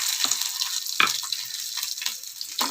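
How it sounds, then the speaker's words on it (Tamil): Pepper and cumin sautéed with dried chillies and shallots in a pan, giving a continuous bright sizzle with a few soft scrapes of stirring, close and fairly loud. "மிளகு ஜீரகம் போட்டு வதக்கிக்கோங்க"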